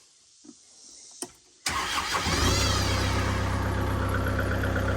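A backhoe engine on a rural Missouri property starts after a couple of faint clicks, catching abruptly and settling into a loud, steady diesel idle nearby.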